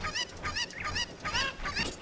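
Chickens in the video game The Legend of Zelda: Ocarina of Time give rapid, overlapping clucks and squawks, several at once in a nasal chorus. The sound is fairly faint, steady and continuous throughout.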